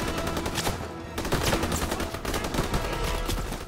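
Dense, continuous gunfire from a Call of Duty: WW2 D-Day battle, with rapid overlapping shots and crackling bursts at close range that stay loud throughout, with no voices.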